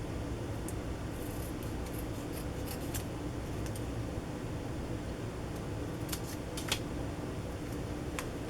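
Scissors snip around a sticker at a craft table, a few crisp scattered cuts popping over a steady low background hiss, close and fairly quiet.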